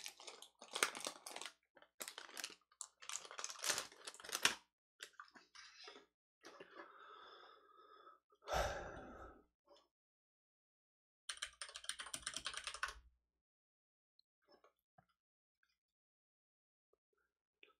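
Someone types on a computer keyboard in quick, dense bursts of clicking keys, broken by pauses, a rustling crinkle and a second short flurry, before the room goes nearly silent.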